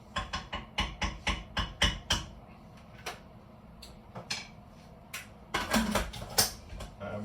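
Rapid series of metallic clicks and ratcheting from a Prestige pressure cooker lid mechanism, close up, then a few scattered clanks and a final burst of clicking.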